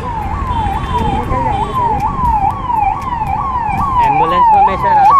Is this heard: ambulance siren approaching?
yes